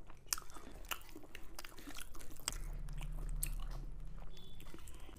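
Mouthful of rice with spicy mutton curry and potatoes being eaten up close, soft wet chewing and small crunchy bites in an irregular rhythm, quiet and intimate with no talking.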